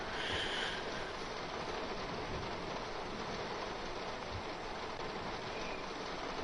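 Steady hiss of rain in the Train Sim World 3 train simulator on the Rhein-Ruhr Osten route, an even, continuous wash at moderate level with no talk.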